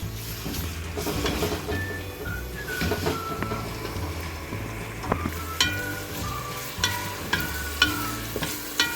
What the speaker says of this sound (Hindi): अब मैं इन सारी चीज़ों को, प्याज और लहसुन अदरक को अच्छी तरह फ्राई कर लूँगी।